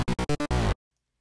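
Five stacked Thor FM bass synth instances in Reason play together: loud, bright, harmonically dense stabs, four short choppy hits followed by one longer sustained note, then abrupt silence, with no voice.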